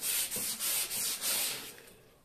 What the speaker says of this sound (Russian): И начинаем хорошенько шлифовать.